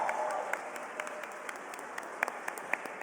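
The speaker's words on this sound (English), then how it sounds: "Massive round of applause." A crowd at a game developer awards ceremony applauds continuously, a dense patter of clapping with a few sharper individual claps standing out near the end.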